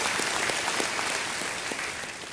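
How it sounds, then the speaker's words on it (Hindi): An audience in a television quiz-show studio claps for cricketer Mithali Raj, a steady round of applause with individual claps audible that gradually fades slightly toward the end. "एक बार तालियां बज जाए मिताली जी के लिए।"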